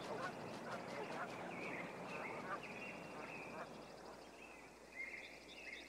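Several young and adult geese honk and call repeatedly at a moderate distance over a steady outdoor woodland background in Minnesota, the honks overlapping in loose bursts.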